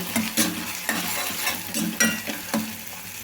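Chopped onion pieces sizzle and fry in a pan, with steady hissing broken by regular scraping stirs of a utensil at a close, moderate level and no talking.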